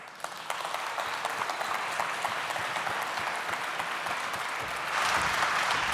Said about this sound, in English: So let's all welcome him now here on stage with a big round of applause.